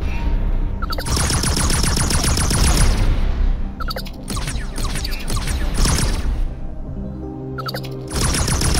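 Bursts of rapid weapon fire in the space game X4 Foundations come in three loud volleys separated by short gaps, over a steady low rumble with no talk.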